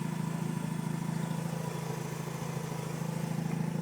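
A 2004 Mazda RX-8 with a 1.3-liter rotary engine idles with a smooth, steady low hum and buzzing drone, constant and fairly quiet from under the hood, with no talking.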